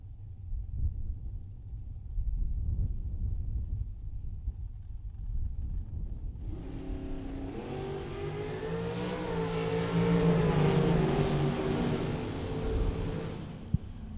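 A dragster and a '71 Nova launching side by side at a bracket drag race in Las Vegas: a distant engine drone swells into a loud, sustained roar of accelerating engines over steady background rumble, with no talking.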